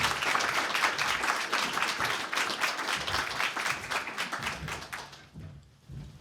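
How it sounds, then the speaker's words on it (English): Audience applause at the Cupertino Library expansion gala and ribbon cutting, a dense sustained clapping from a crowd that fades out over the last second. "Give them a big round of applause."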